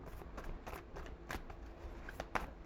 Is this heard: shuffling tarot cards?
yes